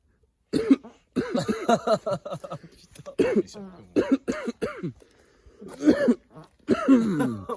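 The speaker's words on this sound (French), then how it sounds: "c'est une grosse toux" Repeated heavy, chesty coughs come in several bursts, mixed with throat clearing and a few short chuckles, close and loud.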